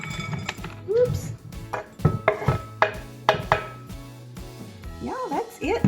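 A kitchen knife chops onions and other dip ingredients on a board, sharp irregular knocks mixed with clinks of bowls and utensils, close by, while a person talks and hums between the cuts.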